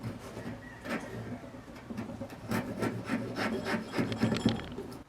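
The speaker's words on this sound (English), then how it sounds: "I came in with the scorp, which is basically a miniature draw knife" A scorp, a small curved drawknife, shaves a wooden piece down toward an even cylinder in quick, repeated scraping strokes, each a short rasping burst close to the listener, with no talking.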